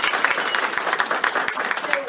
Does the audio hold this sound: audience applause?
yes